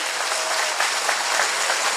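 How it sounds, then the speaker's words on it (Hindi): A crowd at a political rally gives the chief minister a dense, sustained round of applause, loud and steady throughout with no talk over it. "और एक जोरदार ताली हमारे मुख्यमंत्री जी के लिए और विपक्ष भाई के लिए"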